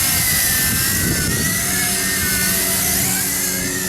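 A WLToys Galaxy V353 headless quadcopter flies outdoors in wind, its rotors giving a steady, loud high-pitched whine with shifting tones as it speeds and turns, continuous throughout.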